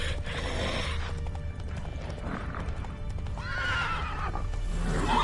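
A horse in The Witcher 3 clip-clops along at a gallop with steady hoofbeats, and a clear neigh rises near the end, close and moderately loud.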